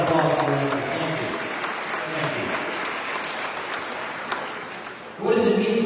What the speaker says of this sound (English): I give us a little round of applause for your efforts.